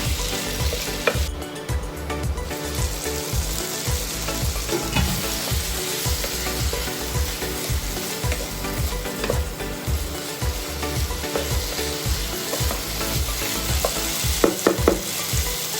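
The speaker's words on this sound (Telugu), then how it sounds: "కారం పచ్చివాసన పోయే వరకు వేయించి ఇందులోకి టమాటాలు సన్నగా తరుకునే టమాటా ముక్కలు వేసి కలిపి మిక్స్ చేసి" Mutton curry masala with finely chopped tomato pieces fries in a pan, a dense continuous sizzle broken by rhythmic scraping and stirring knocks from a spoon, close and steady, with no voices.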